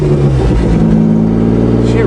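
A car engine revving on a cold winter morning after a cold start, its steady mid-range drone swelling briefly, heard close and continuous with a voice speaking over it.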